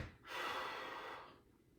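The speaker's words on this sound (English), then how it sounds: "when I take a deep breath" A single slow, deep breath taken close to the mic, rising quickly, holding steady for about a second, then fading out, with no talking.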